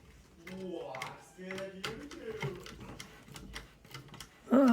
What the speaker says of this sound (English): I'm gonna go back to the front and retighten some of the screws.